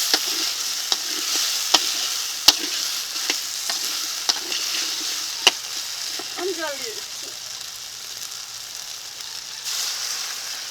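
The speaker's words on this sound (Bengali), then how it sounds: "কাঁচা লঙ্কা বাটাটা দিয়ে হালকা নাড়িয়ে চাড়িয়ে জল দিয়ে দেবো" Green chilli paste frying in a pan for a Bengali fish curry, a soft steady sizzle broken by sharp spoon clacks and scraping as it is stirred, with a voice briefly audible in the middle.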